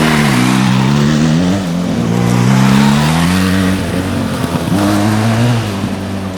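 A Benelli TRK 502X adventure motorcycle engine revs loudly and close up, its exhaust note climbing and falling in pitch in steady surges, with no talking.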